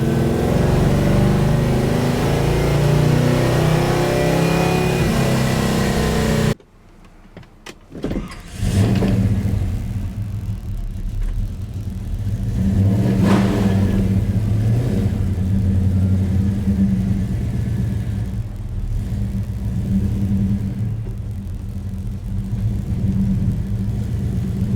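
A car's engine hums and rumbles while driving, steady road and engine noise throughout, briefly cut near the start, with a power window sound and slight rises in revs, no talking.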